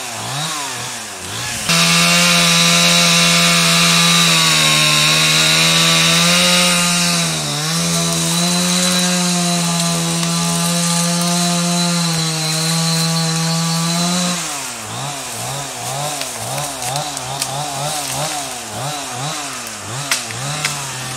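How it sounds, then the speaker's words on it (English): A chainsaw cuts through wood, its engine holding a loud, steady high whine for about twelve seconds, then dropping into rapid revving bursts as the cut ends. "He's just ripping away on the chainsaw."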